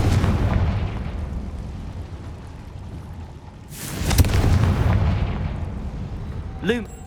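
A Confringo blasting spell bursts in Hogwarts Legacy. A loud, sharp explosion hits around four seconds and is followed by a roaring decay. Ambient game noise runs before it, and a brief tonal effect sounds near the end.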